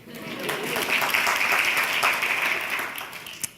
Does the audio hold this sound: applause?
yes